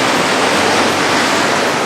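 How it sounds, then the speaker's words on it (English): Tamanawas Falls on Mt. Hood, Oregon pours in a steady, loud, full roar of falling water with no voices, a dense unbroken rush close by. "So we made it out to the waterfall."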